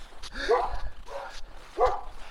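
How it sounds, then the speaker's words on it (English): A dog barks behind a fence at a housing estate in Warsaw, three loud, close, separate barks with a whimpering edge spaced through the moment. "That dog wants to kill me, and it could very easily jump over that fence."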